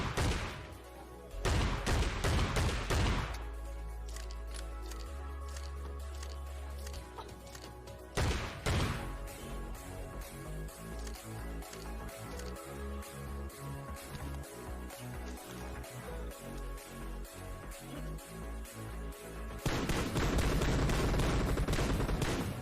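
Shotgun blasts and other gunfire in PUBG Mobile, a few loud bursts mixed with rapid shots over steady game sound and music, with no talking.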